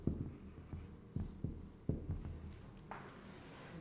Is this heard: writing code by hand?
yes